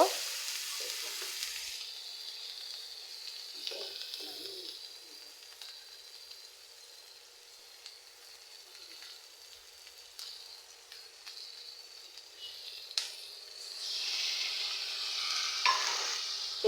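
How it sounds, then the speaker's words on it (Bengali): Onions sizzle and fry in a pan with spices while being stirred, a steady close crackle with occasional scraping stirs and louder bursts near the end; no one speaks. "এখন পেঁয়াজ ভেজে নিলাম হালকা লাল করে এখন মশলাও দিয়ে দিব"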